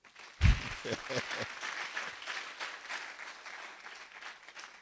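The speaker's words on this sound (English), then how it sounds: "clap again for him" An audience breaks into applause, starting with a sharp burst and settling into steady clapping that gradually thins out.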